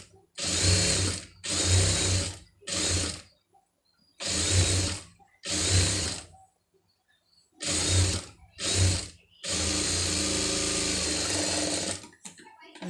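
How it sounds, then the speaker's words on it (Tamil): Sewing machine stitching a scallop design on a blouse, running in seven loud, close bursts of steady whirring separated by short pauses, the final run the longest. "இப்போ நான் அது ஃபுல்லாக உங்களுக்கு தைச்சிட்டு காமிக்கிறேன்"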